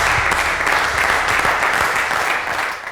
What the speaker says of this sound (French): Merci d'applaudir bien fort Sébastien Dongia